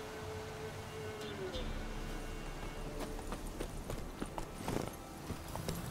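A horse's hooves pound rhythmically in The Witcher 3, growing denser and louder toward the end over a low game ambience.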